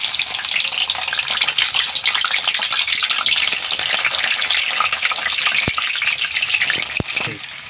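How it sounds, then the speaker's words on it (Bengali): Cut potatoes frying in hot mustard oil: a loud, close, continuous hissing sizzle throughout, with a couple of sharp clicks near the end. "আমি এই তেলের মধ্যে কেটে রাখা আলুগুলোকে ভেজে নেব"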